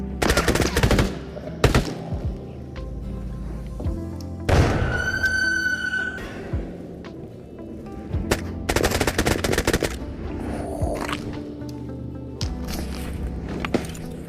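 Combat in the VR shooter The Radius: loud, close bursts of rapid gunfire come in several waves, with a heavier blast partway through and scattered thumps and footsteps between the volleys.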